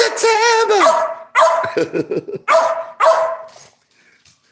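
Several small dogs bark and yip excitedly in short bursts, close and loud, with a brief spoken word mixed in before the barking fades to quiet.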